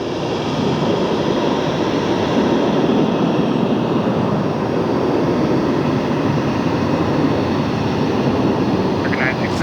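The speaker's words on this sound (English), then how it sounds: "Right now we can get a little bit more of these takeoffs at least." A jet airliner takes off at Philadelphia International Airport, a loud, steady broadband engine roar that holds throughout, with voices talking underneath.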